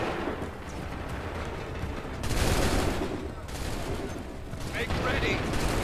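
Musket volleys fired on command in Assassin's Creed III, a rolling crackle of massed shots bursting out around the middle and again near the end over a low battlefield rumble, moderately distant.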